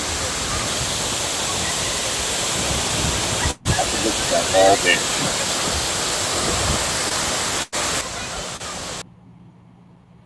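A waterfall in the Philippines roars as a steady, dense rush of falling water close by. A voice speaks briefly over it, and the noise cuts off abruptly near the end.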